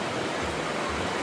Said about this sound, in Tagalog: So nandito po tayo sa Diteki River.